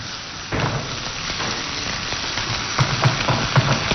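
Onions frying in a pan for a Chadian samosa filling, a steady close sizzle and crackle like light rain, with a few louder pops toward the end and no talk.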